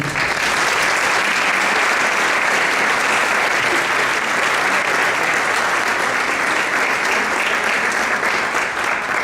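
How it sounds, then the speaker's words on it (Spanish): Audience applause welcomes a guest speaker at a morning education talk: a long, even wash of many hands clapping, loud and unbroken, with no speech. "le demos un fuerte aplauso a nuestro invitado, por favor"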